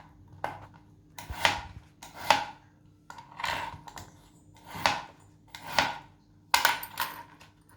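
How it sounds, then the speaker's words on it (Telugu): An onion is chopped into small pieces with a knife, with clusters of sharp chopping taps on a board coming at a slow, steady pace about once a second, close but fairly quiet, with near-silence between strokes. "ఇలా చిన్న చిన్న ముక్కలు కట్ చేసుకోవాలి"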